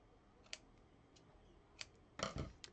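Scissors trimming card stock at a craft table: a few quiet, crisp snips spread out, with a slightly louder double cut near the end, close and alone against a faint room hush.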